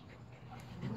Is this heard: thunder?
no